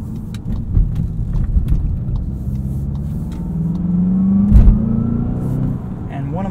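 Engine tone of a 2020 Volkswagen Jetta GLI with a six-speed manual, driven in sport mode: a steady mid-pitched drone that rises slightly under acceleration, heard from inside the cabin along with road noise.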